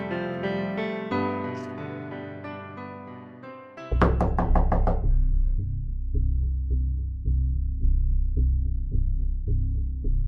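Several dull knocks on a wooden house door, a quick cluster of raps followed by a softer steady thumping, close and fairly loud after background music fades.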